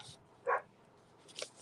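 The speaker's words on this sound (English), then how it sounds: "The dogs are barking." A dog gives a single short bark, fairly faint and somewhat distant, followed a moment later by a softer yip in an otherwise quiet indoor room.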